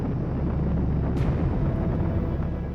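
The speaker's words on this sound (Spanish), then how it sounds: "Ruido de cohetes." A rocket engine gives a loud, steady, broadband roar that rumbles continuously throughout, heard on its own.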